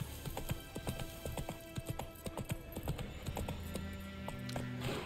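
Horse hooves gallop through a forest in The Witcher 3 game, a fast, steady clip-clop rhythm at moderate level, with a low tonal hum of game music sitting underneath.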